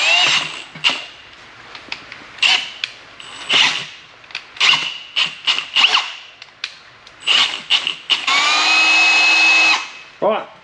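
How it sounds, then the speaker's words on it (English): Power drill boring out a hole in a turbo manifold for a Nissan Skyline turbo build, heard in repeated short bursts with a longer steady whine near the end, with speech between bursts. "He drilled out the hole real good."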